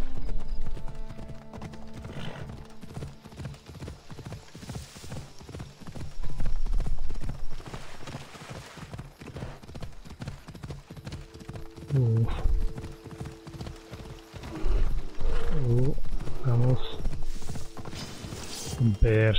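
Hooves of a horse galloping in Assassin's Creed Odyssey pound in a steady, loud clip-clop rhythm, swelling at times, with someone talking over them and game music underneath.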